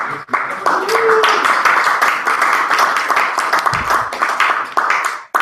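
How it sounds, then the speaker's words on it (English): Dense, continuous clapping from a group, steady and fairly loud throughout, with no pauses. "Clapping is the cue to come back."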